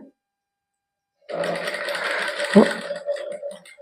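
After a second of silence, a sewing machine starts up close by, stitching a suit design in a boutique with a steady mechanical whir and one brief sharper clack midway through.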